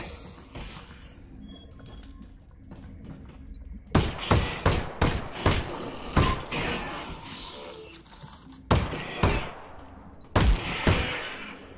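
Gunfire in the Half-Life: Alyx VR game: a quiet stretch, then a burst of loud sharp shots and impact thuds in quick succession, a pause, and two more shots near the end.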